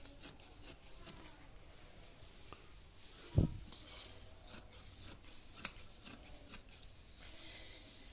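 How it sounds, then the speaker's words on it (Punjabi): Scissors cutting shirt fabric while tailoring a kameez, a quiet rasping snip with one sharp cut standing out, plus a smaller snip later over faint background rustle. "ਚਲੋ ਜੀ ਆਪਾਂ ਇਸ ਤੋਂ ਸਟਾਰਟਿੰਗ ਕਰਾਂਗੇ ਕੱਟਣ ਦੀ"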